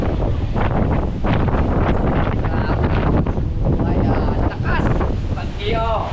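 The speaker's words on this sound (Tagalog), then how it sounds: "Lakas naman ng hangin o bagyo." Strong stormy wind buffeting a microphone, a loud continuous roaring rumble with gusty swells that never lets up for six seconds, with faint voices partly buried underneath.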